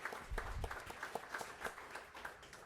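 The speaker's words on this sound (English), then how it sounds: "So let's give everyone a big round of applause." Faint, scattered applause from a crowd at the Taste of America 2019 event in Louisville, distinct claps rising and falling in an uneven rhythm.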